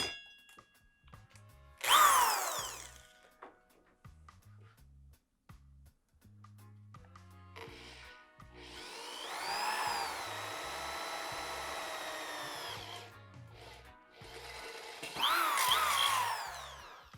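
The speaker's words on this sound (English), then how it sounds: "we could drill the first hole" A power drill whirs in short bursts with a longer sustained run in the middle, drilling a hole to mount a tail light on a Harley-Davidson Sportster motorcycle, rising and falling in pitch against a quiet background.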